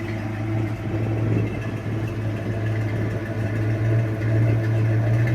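A Ford 351 M-code V8 in a 1969 Mustang Grandé coupé, fitted with a modified Edelbrock 600 CFM carburetor, idles steadily with a deep, even rumble that stays loud and close throughout.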